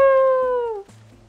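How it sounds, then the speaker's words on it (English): A cat in the video game Transistor gives a single loud, drawn-out meow that slides downward in pitch before cutting off, heard on its own with no talk. "What's that little, like, cat?"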